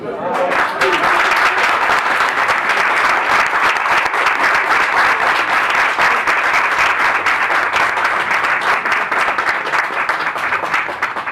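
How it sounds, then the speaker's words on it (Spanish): Sustained audience applause fills the room after a talk, dense, even clapping from start to finish with no break. "Lo aplaudimos."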